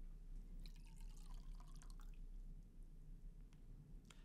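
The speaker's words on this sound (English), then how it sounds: "Carefully pour it into the calorimeter." Cold tap water is poured carefully into a calorimeter in a school chemistry practical, giving soft trickling and dripping sounds, a burst of splashes early on and then scattered drips, all quiet and close.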